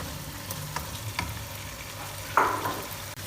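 Cubed potatoes fry with spices in a pan for Achari aloo baingan, a steady close sizzle with a few soft scrapes and one louder stir burst near the end, no talking.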